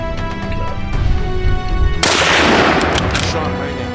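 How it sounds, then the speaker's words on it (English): A single sharp rifle shot fired at a wild boar cracks out loud and close, its blast decaying into a short echoing tail. "Shot rang out."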